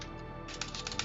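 Fingers tap quickly on a computer keyboard while someone writes C# code, a soft rapid patter of keystrokes over a steady background hum.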